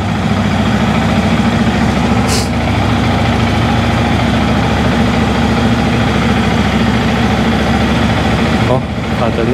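A Yamaha MT15 motorcycle engine idles steadily and loudly up close, a low continuous rumble throughout with a brief click partway through.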